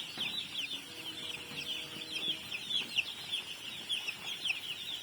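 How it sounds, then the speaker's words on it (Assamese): On a farm, a black chick among other young chicks keeps up a continuous high chorus of rapid, thin peeping, steady and moderately close with faint background rumble. "এইবাৰ মোৰ ফাৰ্মত প্ৰথম আহিছে এনেকুৱা পোৱালি, কলা টাইপৰ পোৱালিটো।"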